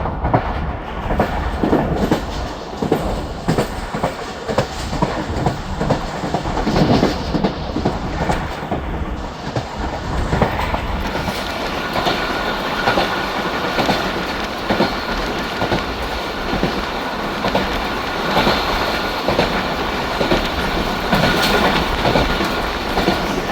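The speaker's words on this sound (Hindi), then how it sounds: "अब यहाँ पर स्टॉप करेगी आके फरीद एक्सप्रेस।" The Farid Express passenger train rolls in to a stop, wheels clattering rhythmically over rail joints with rumbling carriages, loud and close, continuing steadily throughout.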